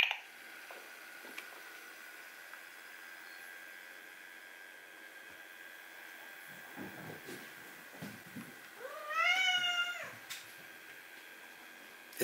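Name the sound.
cat meowing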